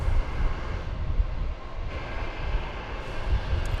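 An American Airlines Airbus A321 going around at Dallas Fort Worth airport gives a broad, steady engine roar from a distance, holding level with no talk over it.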